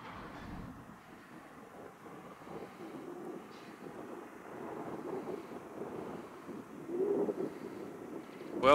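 Strong wind and heavy pouring rain at 2 a.m. in Cambridge Bay, Nunavut, a steady rough roar and rush that swells louder toward the end, heard alone without voices.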